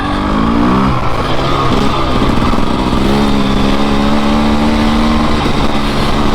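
A TE300 dirt bike rides a rutted trail, its engine loud and close, holding a steady, buzzing drone with slight rises and dips in revs throughout, and no talking over it.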